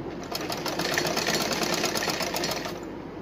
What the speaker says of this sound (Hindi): अब मैं इन्हें जोड़ के सिलाई कर रही हूँ।